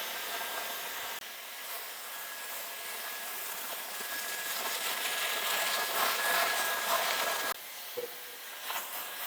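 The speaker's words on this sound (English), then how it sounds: "enough that I can use my Dyson styler that's going to really smooth out my hair" A Dyson hair styler blows continuously on hair, a loud close-up whooshing airflow with a faint high whine, cutting out briefly near the end before starting again.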